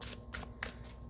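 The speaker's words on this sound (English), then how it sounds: "Very easy to shuffle, I find these cards" Quick riffling of a tarot card deck being shuffled, a few crisp rapid bursts close up.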